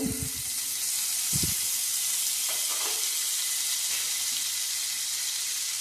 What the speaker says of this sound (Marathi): हे पाव शेकून घेऊ